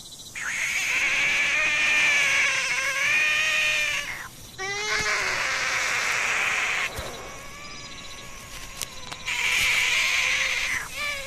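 A horned frog of Central America screams in three long, loud, harsh wailing bursts separated by brief pauses, close and alone with no talk.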